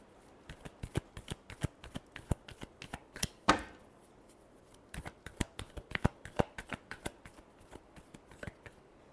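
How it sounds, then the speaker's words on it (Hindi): Tarot cards shuffled by hand in a series of crisp, quick riffling clicks and slaps, close and fairly quiet, with one longer riffle burst partway through and no talking. "last shuffle"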